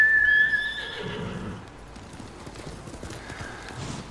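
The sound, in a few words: horse hooves and neigh in the video game Ghost of Tsushima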